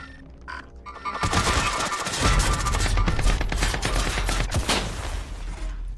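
Rapid automatic gunfire from a video game bursts in after a brief lead-in and keeps rattling in dense, loud volleys almost without pause to the end.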